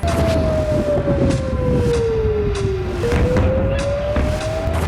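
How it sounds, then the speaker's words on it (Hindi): Wailing air raid sirens in Israel during an Iranian ballistic missile attack slowly fall in pitch, then rise again, sounding over a constant loud rumble of background noise. "इजराइल में हर तरफ सायरन की आवाज गूंज रही थी।"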